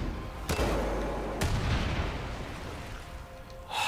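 Two heavy gunshot booms ring out in the video game Far Cry 5, each followed by a long rumbling decay, with a final sharper burst at the end.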